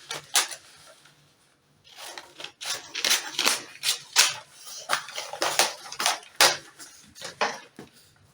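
Scissors snip through a paper pattern pinned to fabric in quick close bursts, a pause after the first few cuts and then a steady run of crisp snips.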